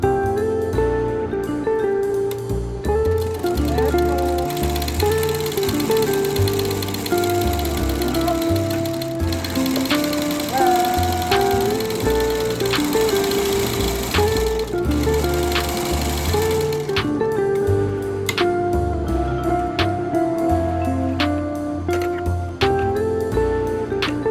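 A sewing machine runs steadily, stitching makeup bag lining pieces right sides together, its loud, continuous rhythmic whir carrying almost without pause.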